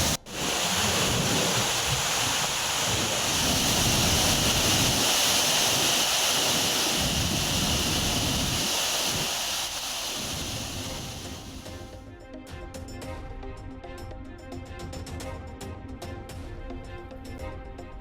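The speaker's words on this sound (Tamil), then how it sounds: "வால்பாறை அடுத்த கவி அருவியில் ஆர்ப்பரித்து கொட்டும் தண்ணீர்." Swollen after heavy monsoon rain, Kavi waterfall near Valparai in the Western Ghats gives off a loud, continuous roar for about twelve seconds, then falls to a quieter wash with faint tonal sounds over it.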